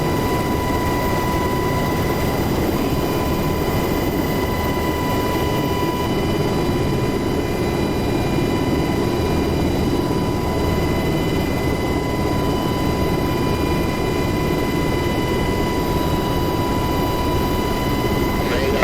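A jet aircraft rolls along the runway on takeoff in the DCS World flight simulator on the Persian Gulf map, a loud continuous engine roar with a steady whine that holds throughout.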